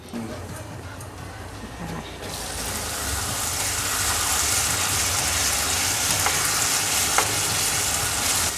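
Cut potatoes sizzle with dried prawns in a hot pan, a steady frying crackle that grows louder partway through, with occasional sharp clicks of stirring and faint speech underneath.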